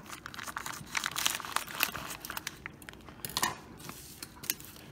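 Scissors snip through a soft noodle package, giving repeated crinkly plastic rustles and sharp cuts in quick irregular bursts, close and fairly loud with no talking.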